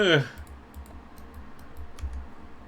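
Computer mouse clicks in the PC game Yulgang, a quick series of light, crisp taps at an uneven pace after a brief tonal chime, close and clear over a low background hum.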